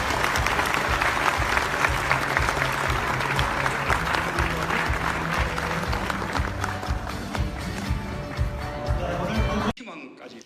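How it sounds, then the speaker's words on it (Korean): An audience at a formal government event applauds warmly, a loud, sustained burst of many hands clapping that holds steady for nearly ten seconds before cutting off abruptly into near silence. "여러분 다시 한번 뜨거운 박수 부탁드리겠습니다."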